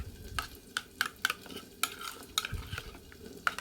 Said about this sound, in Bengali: এটাকে ভালো করে মিক্স করে নেবো